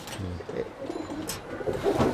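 A prized golden pigeon at a Chittagong pigeon farm gives a brief, low, rolling coo close by, briefly overlapped by a voice.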